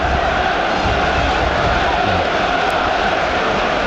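A dense, roaring football crowd fills a stadium during Birmingham City versus Newcastle United in the FA Cup, a steady loud wall of massed voices and cheering with no breaks.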